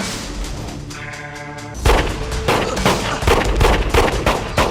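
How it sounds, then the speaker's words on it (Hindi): Rapid gunfire breaks out after a brief tonal hum, a dense run of sharp, loud shots cracking in quick succession. "रीका जानबूझकर अपनी गोलियां इधर उधर चलाने लगती है।"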